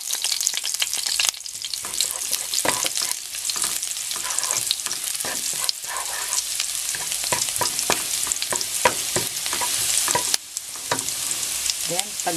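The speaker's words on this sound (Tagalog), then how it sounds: "Then, ilalagay po natin yung ating garlic." Minced garlic frying in about a tablespoon of cooking oil for sweet and sour meatballs, a steady close sizzle broken by repeated scraping stirs, with no voices.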